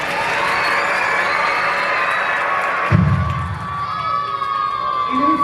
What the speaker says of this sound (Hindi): तो इन बच्चों के मनमोहक नृत्य के लिए एक बार जोरदार फिर से तालियां।